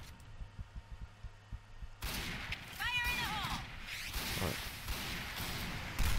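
Gunfire and a grenade blast in the shooter game Piercing Blow: sharp rhythmic shots at first, then a sudden loud burst that turns into a dense, sustained roar of explosion and continued fire.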